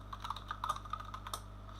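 Keys clack steadily on a computer keyboard while text is typed into a Delphi IDE form, a quick, even run of light taps close by with no voices.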